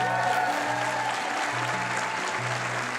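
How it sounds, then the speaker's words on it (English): An audience at a CEO's talk gives a round of applause, a dense continuous clapping texture under steady tonal hum and faint background voices, holding at an even level for the whole stretch. "Let's give them a round of applause, everybody."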